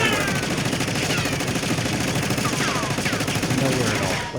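Machine gun fired in the game Warzone, a rapid, continuous burst of 100 rounds held for several seconds, loud and dense, with the shots running together into a steady rattle.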